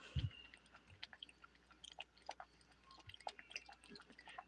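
A cat lapping water from a cup, a quiet series of small wet licks and drips close by, irregular and faint over a low room hush, with one soft bump at the start.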